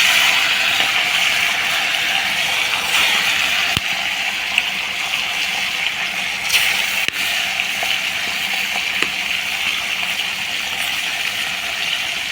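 Pieces of shol fish sizzle steadily in hot oil seasoned with a little salt and turmeric, a continuous bright frying hiss that holds near and fairly loud throughout with small pops and no talk.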